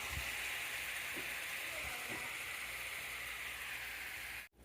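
Carrots sizzle and fry steadily in a pan over lowered heat, a continuous close hiss with faint crackles throughout and a brief dip at the very end.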